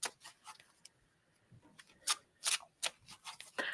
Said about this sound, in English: I have to hand shuffle a lot and get those things moving really well